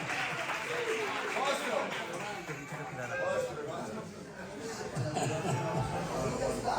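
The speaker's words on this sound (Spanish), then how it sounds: "Darle un aplauso a este hombre." A church congregation applauding a man at a gathering, steady clapping mixed with crowd chatter and voices throughout, fairly distant and even in level.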